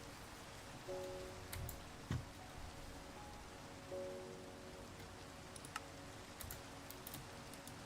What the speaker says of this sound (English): Okay, the rain can go away anytime soon.